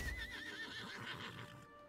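A horse mount in the video game Lost Ark neighs with a rising whinny, close and fairly loud, backed by faint hoof clip-clop and game ambience across two seconds.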